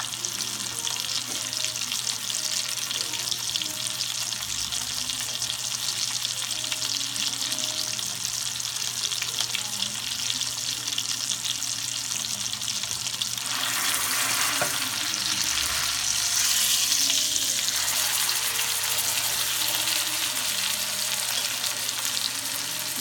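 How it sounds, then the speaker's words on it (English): Pot roast sears in very hot vegetable oil in a pan, a steady dense sizzle and crackle throughout, swelling louder with some stirring near the end. "you gotta get your pan real hot. I use vegetable oil, no butter"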